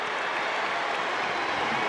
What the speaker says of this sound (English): And the crowd starts to wake up here at the Big A on a Saturday night